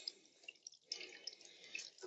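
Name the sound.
water filling a container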